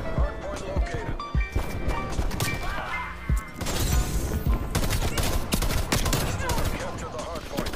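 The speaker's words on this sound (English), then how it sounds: "I didn't even shoot that last shot. I don't know why it still shot." An AUG rifle fires in Call of Duty: Black Ops Cold War in dense, rapid volleys of loud shots over continuous game noise, with a voice faintly under the fire.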